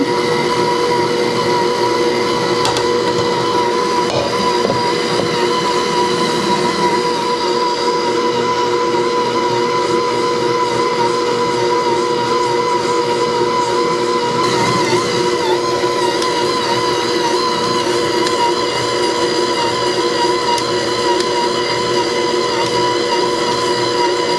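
A budget Aucma tilt-head stand mixer, 6.5-quart and 660 watts, kneads a slightly wet dough, its motor giving a steady, unlaboured whirring drone that runs evenly and loudly throughout with no talking.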